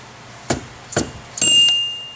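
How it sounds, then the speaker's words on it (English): Three sharp metallic taps about half a second apart as a Sanden SD7 or SD5 compressor clutch hub is driven down onto its shaft through a 14 mm socket, the last ringing on briefly in a quiet room. "Tap it down."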